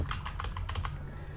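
Keys tapped in quick, irregular bursts on a computer keyboard while renaming a scene in a game project, close and clear over a low background hum, with no voices.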